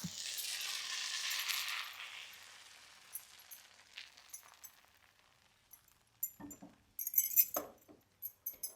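Batter swirls around a heated metal appam pan for Coimbatore-style appam, a soft hiss and scrape, followed by light metallic clinks and taps as the pan is turned and handled, close and fairly quiet.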